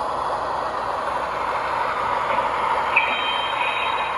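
A Lionel S2 model locomotive pulls a 13-car Southwind set along a Pennsylvania layout, giving a steady, even rolling rumble with a faint high squeal near the end and no talk.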